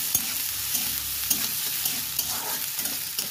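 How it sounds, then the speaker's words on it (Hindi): Onion and garlic frying in a pan for a rustic chickpea greens dish, giving a steady close sizzle with occasional stirring scrapes and no talk. "प्याज और लहसुन भूने भुजा गया है, आप सब देख सकते हो ये बहुत ही अच्छे से भुना गया है"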